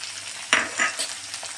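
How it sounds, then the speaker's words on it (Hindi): Okra (bhindi) stir-fries over a high flame, sizzling steadily under a couple of sharp scraping strokes of a spatula against the pan, close and brief, with no talk. "और अब हम इसे तेज में ही इसे फ्राई करना है, इसको ढकना नहीं है बिल्कुल से ही, तेज आँच में इसे बराबर चलाते रहेंगे"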